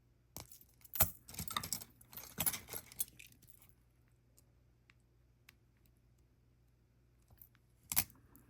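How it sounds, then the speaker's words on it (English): Cutters snip jewelry wires for earrings, giving a few sharp, close clicks mixed with the light jangle of beads, separated by long quiet gaps and one last crisp snip near the end. "let's snip off our wires."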